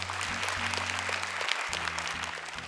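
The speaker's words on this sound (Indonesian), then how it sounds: "Boleh tepuk tangan untuk juri kita hari ini." A studio audience at a Quran memorization competition gives the judges steady, full applause that stays even throughout, with a low musical tone underneath and no voices.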